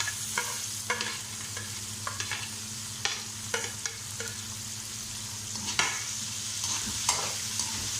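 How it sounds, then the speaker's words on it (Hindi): Potatoes and onions fry together in a pan, a steady low sizzle under irregular scraping stirs and spoon knocks, fairly quiet and close, with no one speaking. "अब इसमें हम प्याज डाल देते हैं आलू में।"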